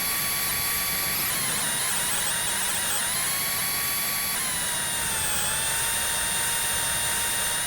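A dive bomber aircraft in the VR game H3VR drones past with a loud, continuous high-pitched whine that sweeps slightly up and down, steady and unbroken with no talking.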